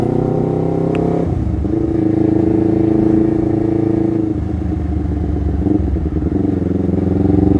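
A Honda CBR250RR motorcycle is ridden around Cikalongkulon, its engine droning loudly and continuously near the microphone with a brief change in pitch early on, like a gear shift, and no talking.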